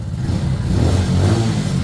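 A Junak RAW 125 motorcycle engine runs steadily close by on its first start, a low, even drone with a slight rise in revs and no voices.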